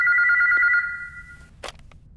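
An office telephone bell rings in a sustained trill, loud and close, then stops, followed by a brief click as it is picked up.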